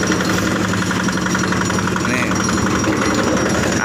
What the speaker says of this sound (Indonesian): Dan molennya sudah berputar, guys.